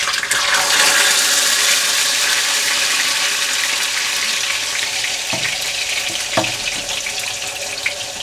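Tortillas for red chicken enchiladas fry in very hot oil, giving a loud, steady hiss and sizzle with a couple of sharp crackles and pops partway through; no one speaks.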